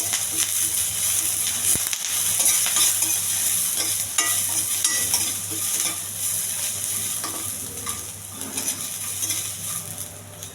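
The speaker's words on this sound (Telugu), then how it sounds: "పచ్చిమిర్చి, అల్లం, ఇవన్నీ బాగా వేగించాలి." Green chillies, ginger, dried red chillies and curry leaves fry in a pan, giving a steady, close sizzle with frequent stirring scrapes and small clinks throughout, with no talking.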